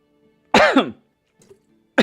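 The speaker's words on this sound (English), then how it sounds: "It's when you cough on your own saliva." A close, harsh cough, two rapid bursts, followed by quiet and the start of another cough at the end.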